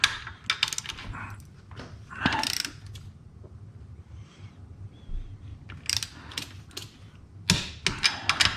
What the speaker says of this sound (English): I'm just going to torque them to like, 35 feet-pounds, give or take